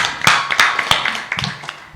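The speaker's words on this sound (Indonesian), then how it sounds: "Tepuk tangan yang meriah" Scattered audience claps at a public regional election debate in Sabu Raijua, Indonesia, a handful of sharp hand strikes spread unevenly over two seconds rather than a full ovation, fairly close and with no talking over them.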